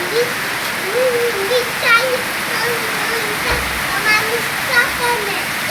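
Rain falls steadily in a constant wash of noise while a voice speaks over it, heard from outdoors.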